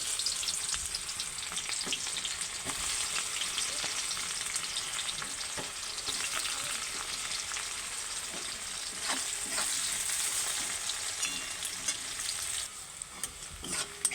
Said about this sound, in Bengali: পেঁয়াজটা ভালো করে লাল লাল করে ভাজা হয়ে গেছে